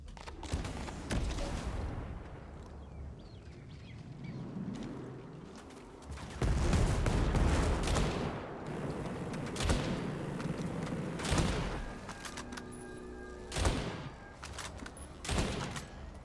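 Gunfire in a first-person shooter game, repeated sharp bursts of shots and impacts over a continuous layer of game sound effects, loud and close with no talking.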